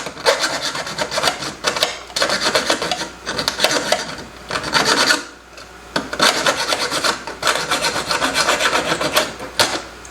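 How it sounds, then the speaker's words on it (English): A hand file rasps back and forth across the metal of a pulled Subaru BRZ spark plug part, loud and close, in long steady strokes broken by brief pauses. "And then I wanted to file it down"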